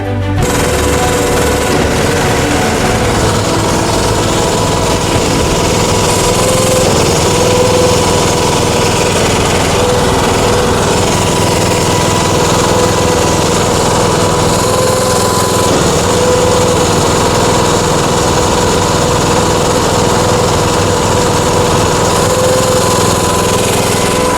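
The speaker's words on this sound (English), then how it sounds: "I think we're going to have to run that auger in reverse as well too." A seed tender auger runs while loading wheat into a no-till drill, producing a loud, continuous mechanical drone and rattle that holds steady throughout without any talk.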